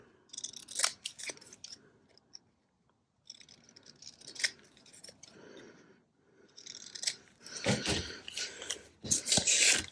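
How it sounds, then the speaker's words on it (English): Scissors snip through the border of a printed paper page for a William Morris-style journal, giving a close series of crisp, quiet cuts in short bursts with small pauses between them. "I think I'm going to cut this border off."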